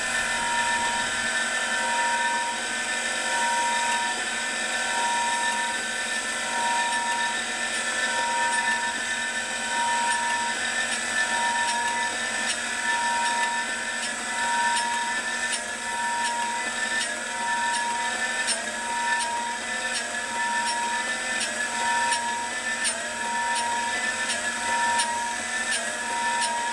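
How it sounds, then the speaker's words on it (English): Surface grinder working the edge of a part for an Atlas 7B shaper, a steady, loud, high-pitched whine with a continuous grinding hiss that holds evenly throughout. "I'm just going to zero the height on the surface grinder"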